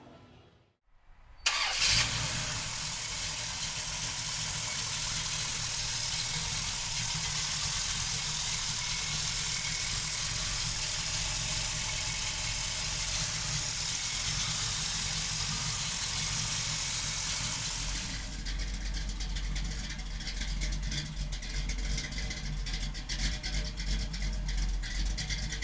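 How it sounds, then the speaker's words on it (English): A 1967 Pontiac Firebird's 350 V8 cranks and catches, then settles into a steady, loud rumbling idle close by, with a deeper shift in tone near the end. "So come on up and we'll fire it up now."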